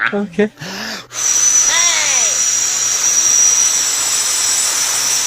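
A person's voice imitates an airplane jet engine: after a short burst of talk comes a loud, steady hissing roar with a high whine and a few brief swooping whistles, held to the end.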